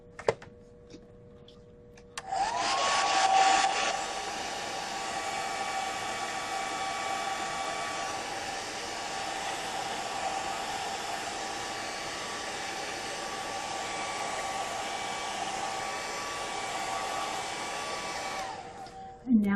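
Hair dryer drying paint on a gel printing plate, switching on with a rising whine and then blowing in one loud, steady roar close by for about sixteen seconds before cutting off.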